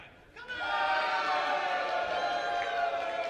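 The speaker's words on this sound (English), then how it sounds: "He may have gained a cheer or two on that one." A crowd cheers at a wrestling match, a sustained, fairly loud roar of many voices that swells in quickly and holds steady without a break.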